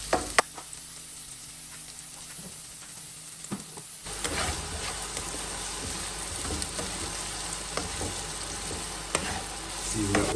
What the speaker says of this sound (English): Saute these until softened and translucent.